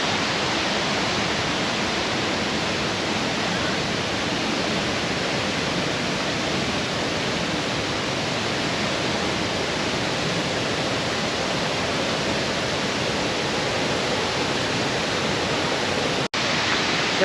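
Waterfall at the chutes in Chutes Provincial Park, a dense, steady broadband roar of falling water that stays constant and fairly loud from start to finish.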